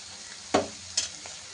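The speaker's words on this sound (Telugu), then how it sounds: "ఇంకొక రౌండ్ కలుపుకుందాం" Crab curry stirred in a pan: a steady low sizzle with two distinct scraping strokes of the spoon, one strong and one lighter, then a faint third touch, close and alone.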